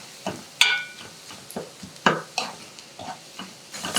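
Spice paste being stirred into a frying eggplant and potato curry in a pan, loud scraping strokes against the pan over a soft sizzle, repeated in a steady rhythm close by, with no talking.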